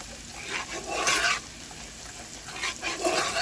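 Garlic being stirred in a frying pan while cooking fried cabbage, a soft sizzle under repeated scraping strokes of a utensil against the pan, close and moderately quiet.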